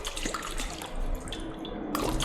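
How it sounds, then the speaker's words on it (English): Healing potion in the Blade and Sorcery video game pouring liquid, a steady splashing, dripping trickle that runs continuously and close for a couple of seconds, with no talk. "It pours liquid into your face."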